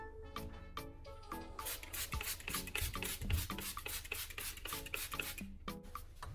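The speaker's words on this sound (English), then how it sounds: "At the same time, it helps the sandpaper glide more evenly, avoiding deep cuts in the plastic." Sandpaper rubs back and forth over a plastic car headlight in wet sanding, making repeated rhythmic scraping strokes, close and quiet with no talk.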